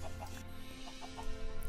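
Chickens in the video game Minecraft clucking, a few short soft clucks scattered over a low steady background hum, faint and brief.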